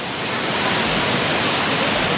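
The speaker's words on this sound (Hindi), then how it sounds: "झरना के तेज आवाज़" A waterfall on a crowded Sunday picnic outing roars loudly and steadily, a dense, close wash of rushing water that fills the whole moment with no voices or breaks.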